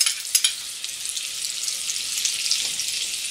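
Butter sizzling in a hot frying pan with a spoonful of vegetable oil, the first step of a pumpkin soup: a steady, bright crackling hiss with scattered pops, close and continuous, no voices.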